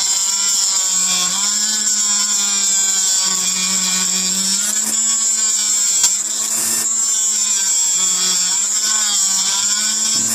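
A power tool cuts the head off a spent bullet shell casing, with the primer anvil coming loose. It gives a steady, continuous high whine and grinding close by, holding level with slight pitch wobbles throughout.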